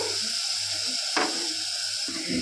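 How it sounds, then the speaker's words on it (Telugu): Onions sizzling and frying toward golden brown in a pan over high flame for a chicken curry, a steady close hiss with a brief stirring scrape, no talking. "ఆనియన్స్ ఫాస్ట్గా ఫ్రై అవుతుంది గోల్డెన్ బ్రౌన్లో"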